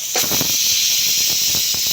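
Steam hisses steadily and loudly from a pressure cooker just taken off the gas after its whistle, a continuous bright rush with faint clicks and rattles beneath.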